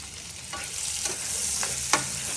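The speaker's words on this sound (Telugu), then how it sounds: "వీటితో నేను ఉల్లిపాయలు చాప్ చేసి పెట్టుకుని ఉల్లిపాయలు వేసేసుకుంటున్నాను" Chopped onions land in oil with frying whole spices such as cardamom and caraway, a continuous close sizzle broken by a few sharp spoon scrapes against the pan.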